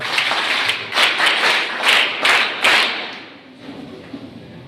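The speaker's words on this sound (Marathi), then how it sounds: "तर ह्या 6 जणांसाठी पहिले सर्व टाळ्या वाजवा." Students applaud at a school talk on POCSO and other laws given by a judge: a burst of dense, loud clapping in rhythmic swells that fades after about three seconds into quiet room noise.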